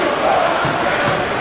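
A basketball arena crowd on its feet, a roaring, sustained wash of cheering during a defensive possession, steady and loud for a brief moment.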